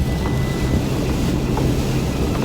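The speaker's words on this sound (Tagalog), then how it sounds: "Paunti-unti na po palakas ang ulan." Heavy rain, growing stronger and driven by wind, in Matsusaka, Mie, Japan; a steady, dense roar of rain and wind noise fills the whole stretch without a break.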